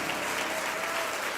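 A church congregation applauds steadily and densely, a continuous wash of clapping from many hands filling the room with no pause.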